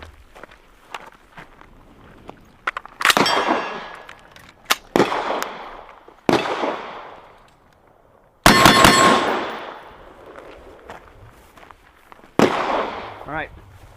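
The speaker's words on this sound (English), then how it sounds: "we're going to back up and shoot it real quick" Several sharp gunshots strike the steel corner of a training structure, each loud crack followed by a ringing metallic clang and a long decaying echo, spaced a second or two apart with footsteps between.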